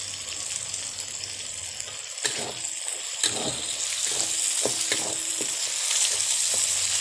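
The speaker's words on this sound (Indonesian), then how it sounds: "jangan lupa ditumis-tumis terus agar tidak kosong dan lengket di wajan" Steady sizzling of a spice paste stir-frying in a hot wok, with intermittent scraping and stirring strokes, no talking.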